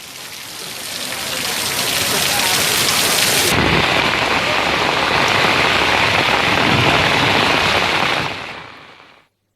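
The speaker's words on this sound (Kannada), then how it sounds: "ಮುಂಬೈನಲ್ಲಿ ಭಾರೀ ಮಳೆಯಾಗಿದೆ" A heavy monsoon thunderstorm in Mumbai brings a loud, steady downpour pounding surfaces, with rolling thunder blended into the dense roar throughout before the sound cuts away at the end.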